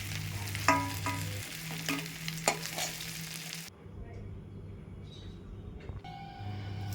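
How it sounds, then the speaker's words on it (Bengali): Shrimp fry in hot oil with a steady, close sizzle and a couple of sharp utensil knocks, then the hiss drops to a quieter bubbling for the rest of the time. "চিংড়ি মাছ ভাজা হয়ে গেছে, এবার তুলে নেব।"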